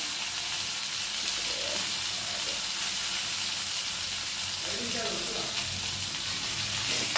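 Onion, cumin, garlic, dried red chilli, chana dal, fenugreek and curry leaves fry in hot oil as a sambar tempering, giving a steady, close, even sizzle that runs throughout with no talking.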